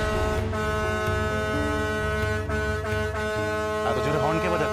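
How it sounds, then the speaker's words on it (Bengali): A vehicle horn blares loudly in long, sustained honks, several in a row, with a few short breaks between them, close and dominant, joined by voices near the end. "এত জোরে হর্ন কে বাজাচ্ছে?"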